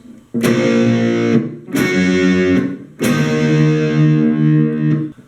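Verse of a song played on guitar in drop D tuning, three distinct strummed chords, the last held longer, close and loud with no voices.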